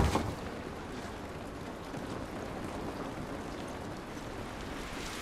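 Steady rain in The Last of Us Remastered game: a dense, even hiss of falling rain pouring across a broad range, constant and enveloping, with a brief louder burst at the very start.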